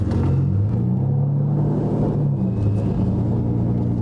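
An Aston Martin DBS with a naturally aspirated V12 idling nearby, a steady low rumbling hum with slight wavering in pitch, no talk.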